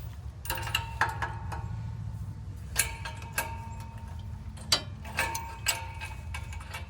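Ratchet tightening bolts on a Chevy pickup: a quick series of clicks with a few sharper metallic clacks, close by, over a low steady background hum.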